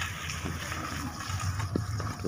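Leftover water pours steadily into a sweet boondi batter mixture, a continuous close liquid gush with a few small splashes near the end.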